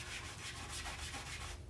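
Steady brushing of a vinyl record sprayed with Windex, using a fingernail or shoe polish brush, a continuous close scrubbing rasp with faint rhythmic strokes throughout.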